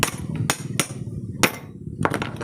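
Hammer blows against an electric fan motor rotor during a repair, four sharp separate strikes spaced irregularly, close and fairly loud with nothing between them.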